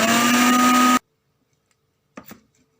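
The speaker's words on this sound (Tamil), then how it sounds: "இப்போ அடுத்து கொஞ்சம் எண்ணெயை ஊற்றி அரைச்சிக்கலாம்" Mixer grinder whirring steadily with a loud motor hum while blending oil into mayonnaise, then abruptly stopping, followed by silence and a brief clattering knock.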